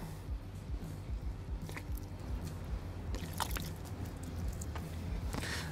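Soapy water is worked onto a telehandler tire segment to help it slide into place, producing quiet wet squishing and dripping with a few sharper squelches partway through and no speech.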